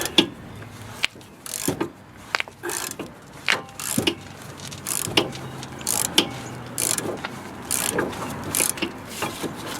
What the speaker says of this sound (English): I'm still gonna use ratchet. It's very tight.